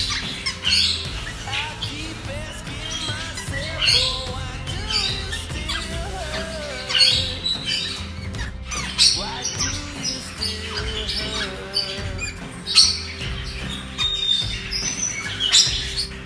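Pale-headed rosellas (Rosela adscitus) at an exotic bird breeding aviary give repeated loud, harsh squawks and chirps, continuous and close, with other bird calls mixed in throughout.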